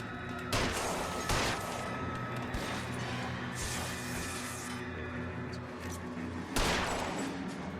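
Video game gunfire from L.A. Noire: a dense, sustained volley of shots with several louder bursts standing out, loud and continuous with no voices over it.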